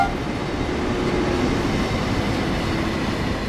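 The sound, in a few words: DHL Intercity mail train departing Lohr station, Train Sim World 4 video game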